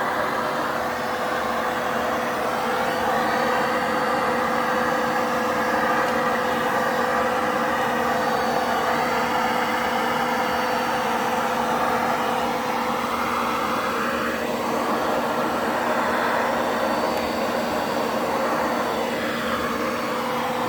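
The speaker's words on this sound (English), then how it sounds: "not the best vacuum for this." A vacuum cleaner runs nonstop while cleaning inside a 1989 Zenith Space Command television, a loud steady motor whine near the listener, its pitch shifting slightly as the nozzle moves across the chassis.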